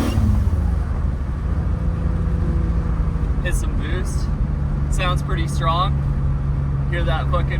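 A turbocharged 1JZ Toyota Aristo with a custom exhaust pulls under boost, a steady loud engine drone and rumble from inside the car, with people talking over it.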